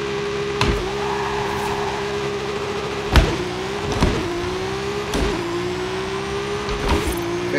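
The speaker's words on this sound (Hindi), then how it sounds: "ये नॉकिंग करती है सिक्स गियर पे, ये इससे ऊपर जाएगी नहीं" BMW M3 E36 engine in Forza Horizon 5 droning at a steady high pitch in sixth gear, broken by repeated sharp knocks and clicks every second or so, close and loud.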